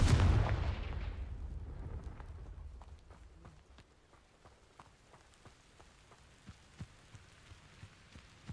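A Confringo fire spell in Hogwarts Legacy goes off with a loud booming blast that decays into a long rumbling tail, followed by a scatter of small crackling impacts like debris settling.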